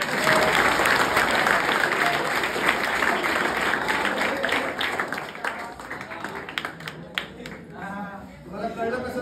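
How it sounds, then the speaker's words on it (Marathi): Sustained applause from a crowd of schoolchildren and parents at a talk, dense clapping that stays loud for most of the stretch before thinning toward the end, with some voices mixed in. "आता टाळ्या"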